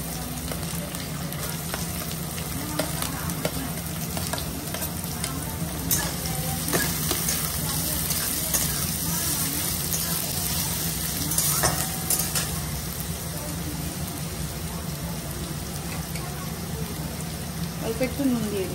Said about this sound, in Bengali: তেলটা গরম হয়ে গেছে, প্রথমে গাজরগুলো ভেজে নেব।